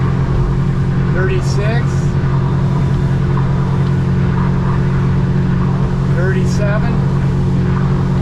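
A 2025 Defiance 26 boat with twin Yamaha F200 outboards runs at speed, its engines a loud, steady drone under a voice counting aloud, with rushing wind and water noise throughout.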